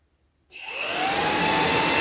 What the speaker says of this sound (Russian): Переходим к 51 позиции. Это у нас реле вентилятора охлаждения.